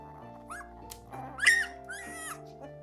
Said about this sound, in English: these guys here making their little puppy noises